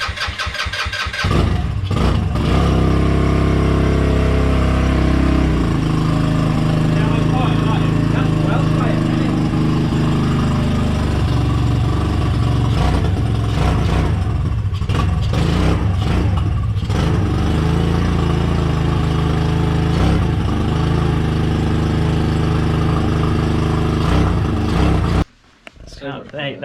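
A modified, turbocharged Honda Ruckus scooter engine runs loud and close for about 25 seconds, revving up and down with a sputtering, buzzy drone before cutting off abruptly near the end, with people talking over it.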